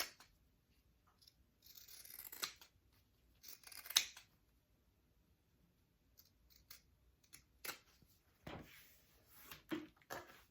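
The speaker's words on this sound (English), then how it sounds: "I'm just going to trim my corners here." Scissors trim the corners of a sewn fabric crossbody bag, giving several short crisp snips spaced irregularly across a quiet room, close to the microphone.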